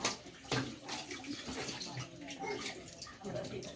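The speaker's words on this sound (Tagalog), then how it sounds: "Ang first daw, lilinisan ng tubig, tatanggalin ng mga dumi-dumi, tapos sabunan." Tap water runs continuously over plates, spoons and forks being rinsed clean at a sink, with splashing surges and clinks as dishes are handled close by, steady and moderately loud throughout.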